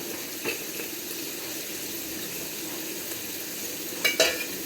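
Beef frying in a pan with sliced onions and a small green chili just added, giving a steady, close sizzle with a couple of brief sharper crackles and stirs near the end.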